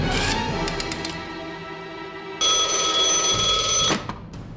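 A telephone rings in a wartime spy drama scene: a trilling electric ring is followed by a brief pause, then a louder, sustained ringing burst that cuts off abruptly.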